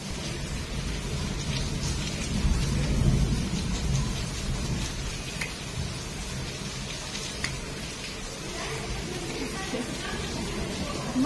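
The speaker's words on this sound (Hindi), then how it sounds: "तूफान आ चुकी है भयंकर, मतलब आंधी तूफान बादल" A fierce storm breaks over a hostel with steady heavy rain. Thunder rumbles low and swells around the second to fourth seconds, and a voice is faintly present beneath the storm.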